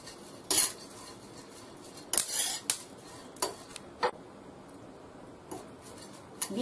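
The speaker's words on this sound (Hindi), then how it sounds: "इसमें से देखिए चटकने की आवाज आने लगी है और ये फूल गए हैं।" Seeds roasting in a pan for boondi ladoo crackle and pop in sharp, scattered clicks, a few isolated snaps spaced unevenly over a quiet background.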